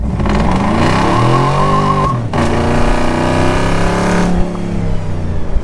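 A shop truck's engine revs hard while driving, a loud continuous roar climbing in pitch, dipping briefly at a gear change, then pulling up again, heard close from inside the cab.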